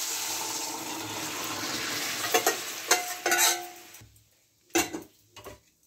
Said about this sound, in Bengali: এবার আমি ডালটা সবটির মধ্যে ঢেলে দেবো